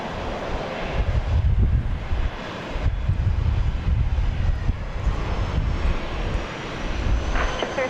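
A fixed-wing airliner taxiing at Dallas Love Field gives a steady, rumbling engine drone that holds for the whole stretch, with some wind buffeting on the microphone.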